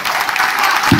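An audience at a party anniversary gathering claps in a dense, loud burst of applause, close and continuous for a moment.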